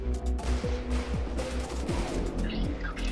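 Rapid flak cannon gunfire from the video game Redcon, a dense barrage of loud overlapping booming shots filling the whole span with no pauses.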